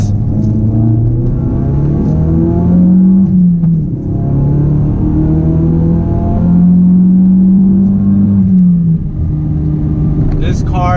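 A tuned 450-horsepower 2017 Ford Focus RS engine drones loudly from inside the cabin while driving, its pitch rising and falling through revs and gear changes, with a voice talking over it.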